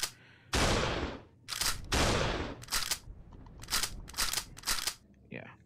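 Assault rifle fire in the VR game Reficul: a series of sharp, loud bursts, two long sprays followed by several shorter volleys, spaced with brief quiet gaps and a faint voice at the very end.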